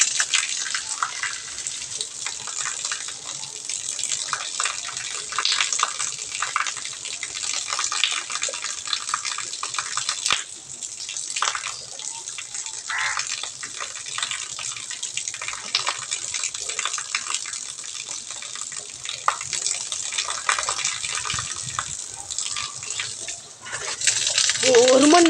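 Water gushing from a pipe on a rooftop terrace while someone bathes under it, a loud continuous hissing spray close by, sustained throughout.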